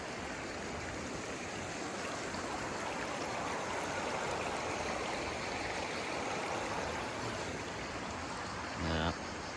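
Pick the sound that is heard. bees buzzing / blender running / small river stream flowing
small river stream flowing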